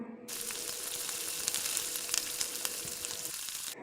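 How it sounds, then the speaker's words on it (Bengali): Semolina pitha frying in hot oil, a steady broad sizzle and crackle that starts abruptly and runs close and even for several seconds before cutting off. "এবার গরম তেলের মধ্যে আমি এটা দিয়ে দিলাম দেখো কীভাবে ফুলছে"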